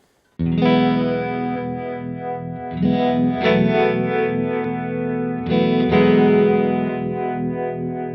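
A distorted electric guitar sustains chords while a pulsing tremolo effect switches on and off a few times.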